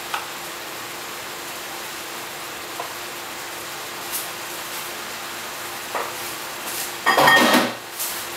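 Champignon mushrooms are stirred in a pan for Sichuan-style veal, with a faint steady sizzle, sparse soft utensil taps and a louder scraping stir near the end.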